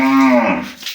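A Holstein Friesian cow gives a single loud, close moo, a drawn-out low call that fades after about a second.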